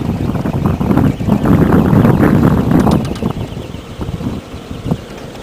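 A Slurpie 104 wind turbine spinning in light night wind: steady whooshing wind noise with a whirring, rushing body that swells and then fades, with a few faint ticks near the end.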